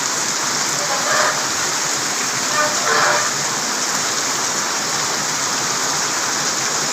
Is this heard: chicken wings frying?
no